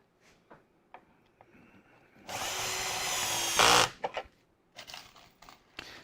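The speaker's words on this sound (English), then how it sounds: "These screws are going in around 14 millimetres, which is fantastic" A power drill drives a screw into wooden drawer parts in one sustained, loud whirring burst of about a second and a half. Quiet handling clicks and taps come before and after.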